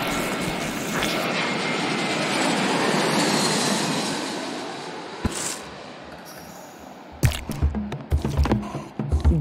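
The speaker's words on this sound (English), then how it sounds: "When the acceleration of takeoff had slackened, John felt a sweet relief" An airplane in the video game Genital Jousting gives a steady loud roar with a rushing, airy hiss that swells and fades. Near the end it turns into sharper thuds and rumbling bursts.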